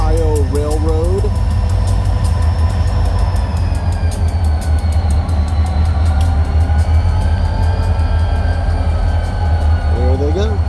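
An Indiana and Ohio Railroad train backing up at a crossing in Lima, Ohio, a steady loud rumble of engine and rolling wagons with squealing wheel tones and crossing-bell ticks throughout.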